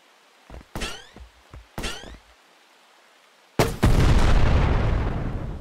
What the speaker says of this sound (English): Yep, it's a grenade launcher.